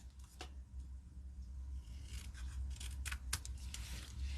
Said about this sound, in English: I am going to just trim this by hand and hope it's not too crooked